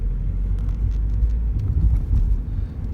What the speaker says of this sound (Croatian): Ne ide niko, ide ovaj auto,